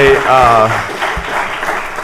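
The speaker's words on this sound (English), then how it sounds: "a round of applause" Audience applause at a city council meeting in Orlando, a dense wash of clapping that starts under a voice finishing a sentence and then continues steadily for a couple of seconds.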